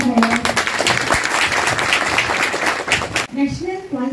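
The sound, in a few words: applause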